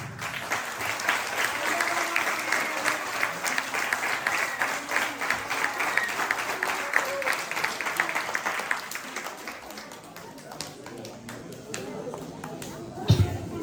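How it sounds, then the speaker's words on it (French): Audience at a judo and jujitsu school's end-of-year show in Échillais applauds warmly, a steady wash of many hands clapping that gradually thins and fades toward the end, with a sharp bump near the close. "On peut l'applaudir quand même"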